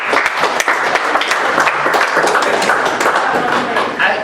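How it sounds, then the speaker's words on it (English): Applause from an audience at a Willow Run Tea Party gathering, a dense, steady round of many hands clapping close by for about four seconds with scattered louder claps throughout. "So, Tim deserves a little round of applause for the work that he's done"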